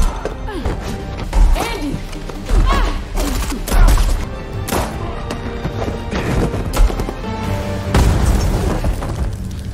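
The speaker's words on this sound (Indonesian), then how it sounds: "Untungnya Andy masih selamat dari ledakan grenade launcher yang ditembakkan oleh Kin" Grenade launcher explosions: heavy booms and crashing impacts erupt repeatedly, loud and close, with debris-like clatter between blasts in a chaotic battle scene.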